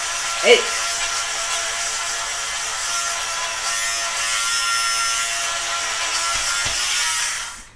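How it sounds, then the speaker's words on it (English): A small electric sweater shaver hums steadily up close, a constant high buzz running throughout with a brief faint voice near the start. "sweater shaver is like one of my most favorite tools in reselling"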